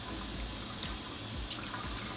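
Tap water running steadily into a sink while celery stalks are scraped clean under warm water at home. The hiss is continuous, faint and even, with no talking.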